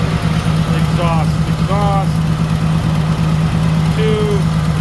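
A car engine fitted with two exhaust manifolds idles steadily with a loud, constant low hum, while voices talk briefly over it.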